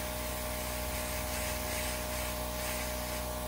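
An airbrush sprays paint steadily while numbers are painted onto a clock face, producing a continuous, even hiss that holds close and loud throughout with no pauses.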